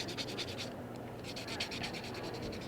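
Heavy-grit abrasive rubbed over a small piece of craft metal to remove patina, giving quick rhythmic scratchy strokes close up, a short pause midway, then more rapid rubbing, faint and without speech.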